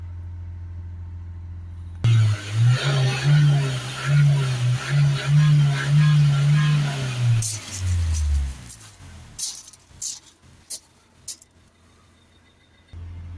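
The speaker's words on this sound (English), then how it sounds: "Okay, we've got a steady hold there. Got a steady rev." A Vauxhall Vivaro 1.6 diesel van with an inlet air signal fault and particle filter fault starts after brief silence and holds a steady, droning idle-rev for about five seconds, then winds down, followed by a few sharp clicks and knocks.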